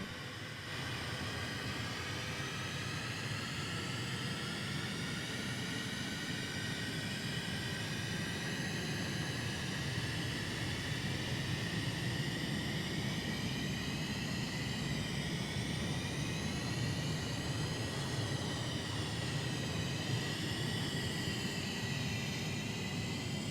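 F-15 fighter jet engines in a flight simulator game, a continuous droning roar with a whining tone that slowly wavers in pitch, steady and moderately quiet throughout.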